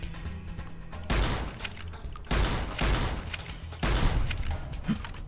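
Gunfire in the PC game Fallout: New Vegas, three loud bursts of rapid shots roughly a second apart, each a dense rattling volley over a low rumbling game soundscape.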